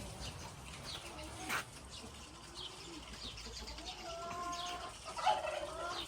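Junglefowl calls ring out over a steady outdoor background in Riyadh, with a louder crowing-like call near the end and scattered chirps throughout.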